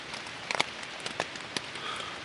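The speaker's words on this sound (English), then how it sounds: "it started raining again" Rain falls on a campsite along a backpacking trail, a steady soft hiss of drizzle broken by scattered sharper drop taps landing on nearby surfaces, close and quiet with no talking.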